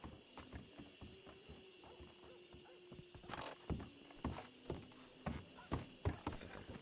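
Horse hooves clip-clop in a steady walking rhythm as a rider travels on horseback in a video game, the footfalls growing louder and closer toward the end over a faint ambient hum.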